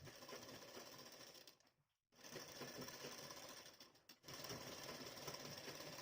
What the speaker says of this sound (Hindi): तो इस तरह कपड़े और अस्तर को अच्छे से मिलाते हुए सिलाई लगाएंगे।